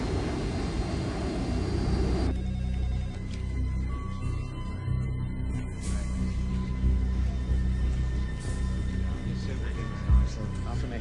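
A jet airliner climbs in flight in an action movie scene, its engines giving a steady, loud roar that carries under the scene's other sound throughout.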